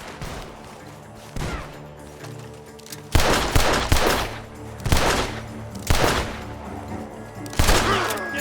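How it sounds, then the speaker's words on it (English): Bursts of gunfire in Red Dead Redemption 2 crack out in several loud volleys from a barn, each followed by echoing rumble, with quieter sustained noise between them. "The gunshots are coming from that barn!"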